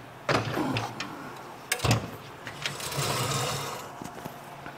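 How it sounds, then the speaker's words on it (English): Clamping a part onto a shaker table: irregular metallic clunks and knocks as the piece is set and positioned, with two sharper impacts standing out and quieter scraping handling noises between them, close up with no speech. "first thing I'm gonna do is clamp this in place"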